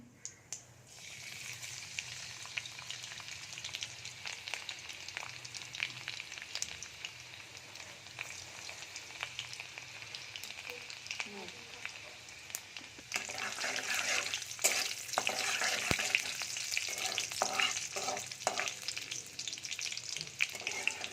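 Garlic fries in oil in a blackened kadhai after cumin and mustard seeds, a steady sizzle running throughout with occasional stirring clinks, growing louder and busier toward the end, with speech at times.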